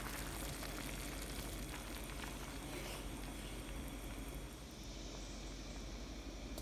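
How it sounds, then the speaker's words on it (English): Rice with tomatoes and oregano being stirred in a Le Creuset paella pan, a steady continuous sizzle with faint scraping, close and even throughout, with no talking. "I'm just going to stir all of this in."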